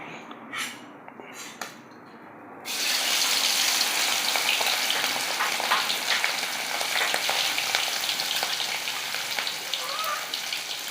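Cleaned prawns dropped into hot oil, a quiet pan giving way to a sudden loud, dense crackling sizzle that holds steady and close for several seconds.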